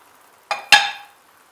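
A spoon spreads a minced meat mixture over eggplants in a pan, giving two quick close scrapes and clinks of metal on the pan, the second louder, before the sound fades.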